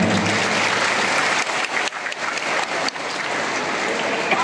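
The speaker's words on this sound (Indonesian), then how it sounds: "Ya, boleh tepuk tangan." Audience applause during an Islamic lecture in Sumbawa, a loud dense roar of many hands clapping close by, briefly dipping a couple of times before continuing steadily, with no voices over it.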